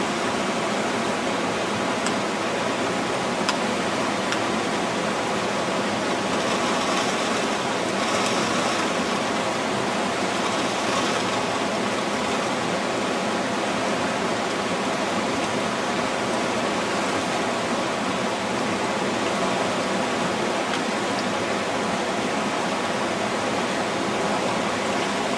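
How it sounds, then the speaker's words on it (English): Water carrying gold concentrate, black sand and clay is poured slowly through a bucket at the top of a sluice box, making a loud, continuous rushing wash that stays steady with no talk. "I'm going to go ahead and pour this through the bucket here in the top of his sluice box"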